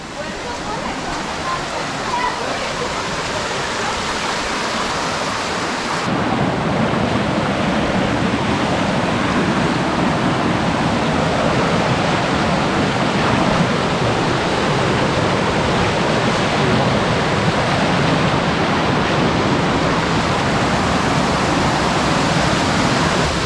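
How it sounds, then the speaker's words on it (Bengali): Muppochora Waterfall in Belaichhari, Rangamati, Bangladesh, roars in a loud, unbroken rush of water, steady throughout and growing fuller after a few seconds. "মুপুছড়া ঝর্ণা।"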